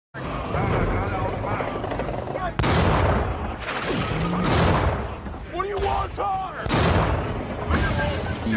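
Loud, dense tank-battle gunfire from the war film Fury, with booming cannon blasts and rattling shots over a constant roar of engines and explosions, and several hard impacts punching through the din.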